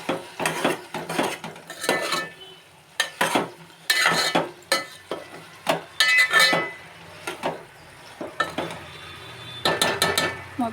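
Food frying in a pan with chilli powder added and stirred repeatedly, bursts of scraping and clinking from a utensil against the pan over a soft steady sizzle, close and fairly loud.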